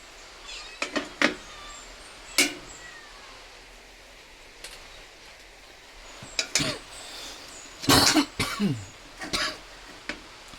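Several short, sharp coughs spaced irregularly, close by, with faint clinks of dishes and a bit of throat clearing in a quiet room.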